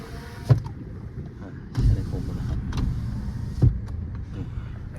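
Driver-side auto power window moving in a Toyota Vios 1.5 E sedan: a motor whirs for a few seconds inside the car, with switch clicks and soft thumps near the start and end.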